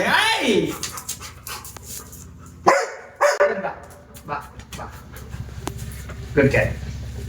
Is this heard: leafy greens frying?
no